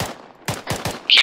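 Suppressing gunfire in Arma 3 during a military-simulation squad training drill: a few sharp, spaced shots in quick succession, close and loud, ending in a brighter burst.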